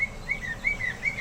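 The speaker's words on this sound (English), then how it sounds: "as the mockingbirds fly" Mockingbirds chirp in short, repeated whistled notes at a steady rhythm, fairly faint over quiet outdoor background noise.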